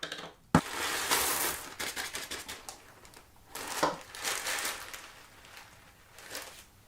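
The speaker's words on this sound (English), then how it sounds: "I'm going to tip this old ceramic media out" Old hard ceramic aquarium filter media, like little marbles, tipped out of an Aqua One Moray 700 internal filter: a sharp clack, then bursts of rattling, clinking pieces tumbling out in short irregular spills, fairly quiet and near.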